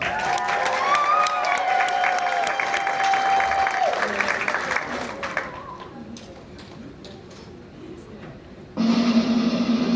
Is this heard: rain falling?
no